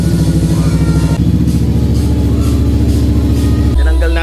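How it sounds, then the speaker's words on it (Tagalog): Motorcycle fitted with an Akrapovic Scorpion exhaust with the silencer removed, revving loudly close up in a steady throbbing idle-to-rev pattern, with a sharper engine change near the end. "Tinanggal natin yung silencer natin ngayon. Oh, iingay ng pipe to, no?"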